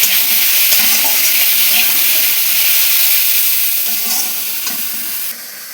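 Prawns fry with onion and garlic in oil, a loud continuous sizzle with a few stirring scrapes that eases slightly toward the end.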